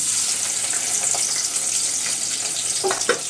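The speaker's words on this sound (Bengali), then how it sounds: "পেঁয়াজটাকে একটু হালকা ভাজা করে নিব" Sliced onion fries in hot oil, giving a loud, constant sizzling hiss up close with a few small crackles near the end and no voices.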